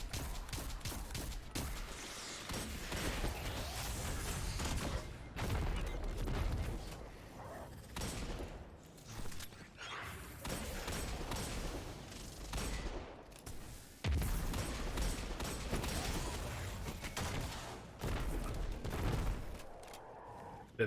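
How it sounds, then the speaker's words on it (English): Cluster bomb rockets burst in a Destiny 2 firefight, a dense, loud barrage of overlapping explosions and gunfire rolling almost continuously with short lulls between volleys. "that cluster bomb is really handy there"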